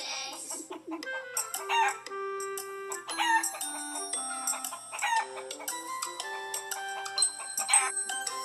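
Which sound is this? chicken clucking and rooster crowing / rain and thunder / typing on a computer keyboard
chicken clucking and rooster crowing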